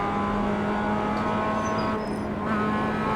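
Steady, continuous engine drone from a Mazda MX-5 Cup race car in iRacing at The Bend West Circuit, held at constant high revs through a fast section, loud and close without pause.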